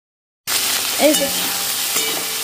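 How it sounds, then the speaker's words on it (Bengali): Okra fries in a wok, starting abruptly after a brief silence, with a constant close sizzle and a few stirring scrapes against the metal. "কমপ্লিট ঢেঁড়স ভাজা।"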